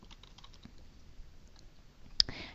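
Soft, quick clicks of a computer keyboard as a project name is typed, a light irregular patter close by, ending with one sharper key tap, no voices.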